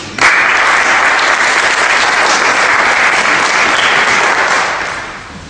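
Loud, close applause breaks out suddenly at an evening awards ceremony as an online bank takes first prize, holding as a thick steady clatter of many hands before fading near the end.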